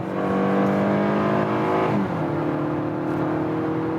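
Naturally aspirated engine of a new Hyundai Santa Fe accelerating hard, a loud sustained drone climbing in pitch, then a brief dip as the gear shifts before it keeps pulling steadily, heard from inside the car with no talk.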